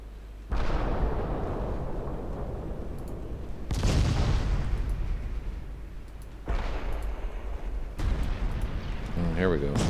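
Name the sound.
naval main guns firing in video game Ultimate Admiral Dreadnoughts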